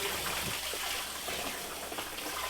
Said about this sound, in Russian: Добавляем немножко воды, чтобы у нас получилось 200 литров затор получился.